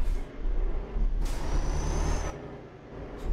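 Heavy-cargo truck air brakes in Euro Truck Simulator 2: a loud hissing release of air lasting about a second, over a steady low engine rumble, with a shorter hiss near the end.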